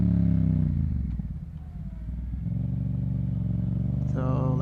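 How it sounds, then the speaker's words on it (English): Yamaha MT-07 motorcycle engine, fitted with a Yoshimura exhaust, droning steadily as the rider attempts a downshift; the engine note dips and wavers midway, then settles back into a loud, continuous rumble before revving briefly at the end. "So like here I was gonna downshift, but I failed to downshift"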